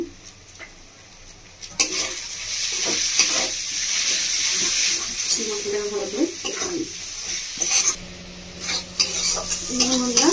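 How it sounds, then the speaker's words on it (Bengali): Spice masala frying with desi chicken in a pan: a loud, continuous sizzle under constant stirring and scraping, with a voice heard briefly toward the end. "মশলাটাকে ভালো করে ভেজে নিয়েছি।"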